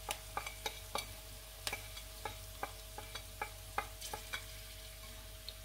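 Onion, ginger and spices fry in a pot for a rice-and-vegetable dish, with a quiet steady sizzle and a regular series of light taps and scrapes as a spoon stirs them.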